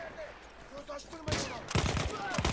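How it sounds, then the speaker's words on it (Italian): Semi-automatic rifle in the video game Battlefield 1 firing three-round bursts, sharp loud shots clustered at about 1.3 and 1.8 seconds, coming after a quieter stretch of game ambience with faint tones. "È semi-automatica, spara 3 colpi alla volta."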